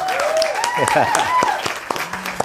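An audience at an Indonesian stand-up event claps for the organizers, scattered, fairly close hand claps under a voice and cheerful vocal sounds over about two seconds.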